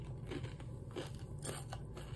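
Nacho Cheese Doritos chips being bitten and chewed close to the microphone, a few crisp crunches in quick succession over a low steady hum.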